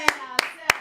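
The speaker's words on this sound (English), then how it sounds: "Clap for the man" Three sharp, evenly spaced hand claps, close and fairly loud, over a faint tonal background on a Nigerian talk show.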